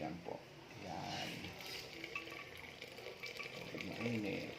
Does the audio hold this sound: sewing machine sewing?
no